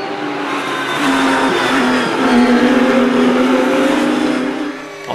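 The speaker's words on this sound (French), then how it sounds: "Superbe duel en tête entre les 2 Porsche 992 Cup de Beltoise et Van de Vostin" Porsche 992 Cup race cars dueling for the lead at the Val de Vienne circuit, engines roaring loud and steady throughout with a sustained high-revving drone, swelling slightly as the cars pass, no voices.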